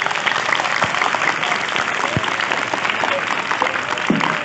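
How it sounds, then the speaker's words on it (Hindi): Audience clapping loudly and steadily at a school program, a dense, continuous round of applause from a crowd filling the hall, with a few sharper individual claps standing out. "इनके लिए भी जोरदार तालियां।"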